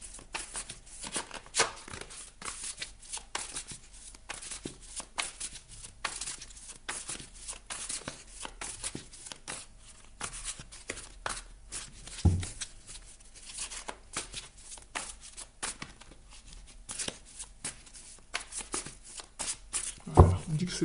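Tarot cards being shuffled by hand during a reading, a steady rustling patter of riffles and slides that runs throughout at modest level, with a few louder knocks near the end.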